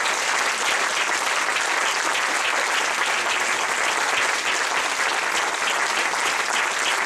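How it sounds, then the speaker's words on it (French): Congregation applause at a Saturday morning church camp gathering, a loud, sustained wash of many hands clapping steadily, with no speech over it. "Donnons un applaudissement au Seigneur pour cet engagement."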